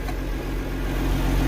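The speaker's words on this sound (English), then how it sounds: "So I'm gonna get this tractor the heck out of here" A tractor engine idles steadily close by, a low continuous rumble with a faint rise in revs and no talk over it.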